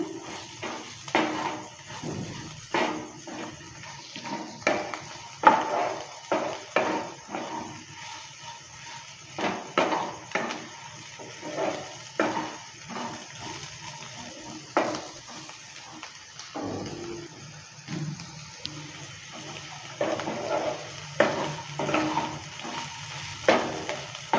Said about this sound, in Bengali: দুই চামচ দিয়ে দিচ্ছি শুকনো নারকেল গুঁড়ো। দেওয়ার পর নেড়ে চেড়ে নিচ্ছি।